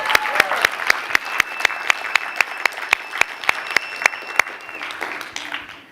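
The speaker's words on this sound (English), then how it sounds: "Let's give him an applause." A conference audience applauds its organiser with a sharp, rhythmic clapping that runs steadily for several seconds, carrying a faint sustained tone beneath, then fades out near the end.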